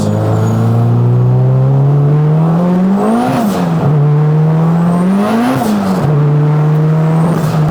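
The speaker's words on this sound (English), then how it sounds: "The blow-off valve noise is so clean." Turbocharged 600HP Honda Civic street car accelerating hard through the gears, with a loud rising engine note that dips at two shifts, each marked by a blow-off valve whoosh, heard close and without talk.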